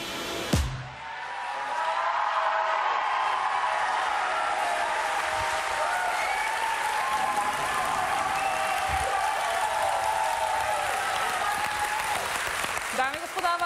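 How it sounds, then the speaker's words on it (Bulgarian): Steady audience applause at a Bulgarian talent show semifinal, a broad sustained wash of clapping filling the hall for over ten seconds, with a host's voice briefly heard at the start and end. "Дами и господа, вашите аплодисменти"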